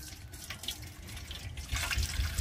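Water is slowly poured off soaked raw potato while making homemade cornflour, a soft, close splashing trickle that swells louder toward the end, with no talking.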